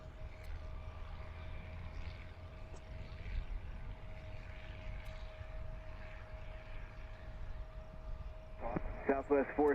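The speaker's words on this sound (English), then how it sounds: "The United Express flight taking off on 27." A United Express aircraft takes off on runway 27 at a busy cargo airport, heard as a steady, fairly distant engine roar and rumble throughout, with a brief voice entering near the end.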